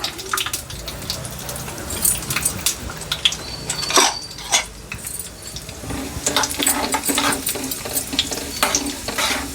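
Raisins frying in a pan of hot fat, a steady close sizzle with stirring scrapes and clinks of metal throughout, no voice.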